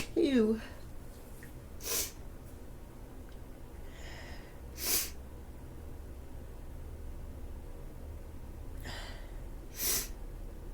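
Three short, sharp sneezes from a person with a cold, each a sudden burst roughly three seconds apart, over quiet room noise with a small breathy sound at the start.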